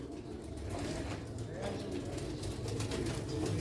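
A black pigeon coos softly among other pigeons. The faint, low calls sit under a speaking voice.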